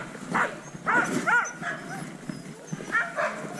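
Sled dogs at a kennel in snowy Lapland give short yips, whines and a few barks in bursts at close range, with people talking nearby.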